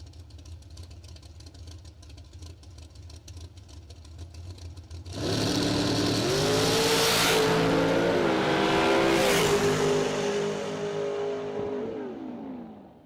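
A drag racing car makes a solo bye run at a 20K spring race event. A quiet stretch gives way to a sudden loud engine roar that climbs through the gears, holds strong, then fades away.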